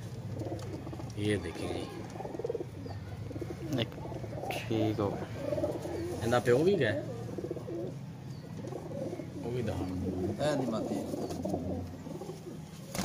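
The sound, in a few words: pigeons cooing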